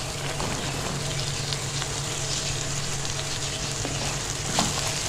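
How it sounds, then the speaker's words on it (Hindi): Chopped potatoes for aloo keema frying steadily in a pan, a continuous close sizzle at even loudness with a faint stirring scrape near the end and no talking. "अब हम इसमें ऐड करेंगे कटे हुए आलू।"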